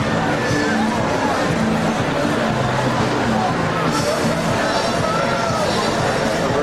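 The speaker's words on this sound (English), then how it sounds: "So there's a crowd halfway across it." Crowd on a street at Mardi Gras on Fat Tuesday, a steady wash of chatter and babble from many people, with a nearby voice talking over it.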